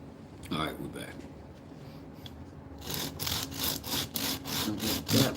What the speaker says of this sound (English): I'm just going to keep sanding until I hit my line.